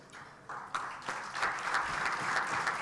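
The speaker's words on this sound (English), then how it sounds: "please give me a rounding applause for my friend, Steve Joyce," Audience applause at an awards and scholarship lunch, building from scattered claps to a steady, moderately loud round of clapping.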